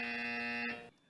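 A quiz show buzzer at an engineering quiz grand final gives one loud, steady electronic drone lasting under a second before cutting off abruptly.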